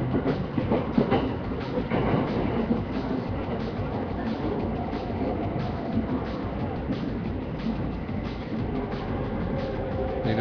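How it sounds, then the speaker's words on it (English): Continuous rumbling and rattling of a moving train, steady and close, with faint clickety-clack from the rails. "Boring old train ride."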